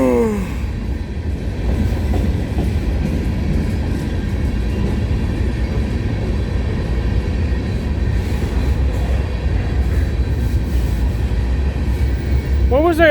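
A CN freight train passing trackside at night in the rain in Sarnia, Ontario, a loud continuous rumble and rattle of cars rolling close by, with a horn-like tone at the very start and end.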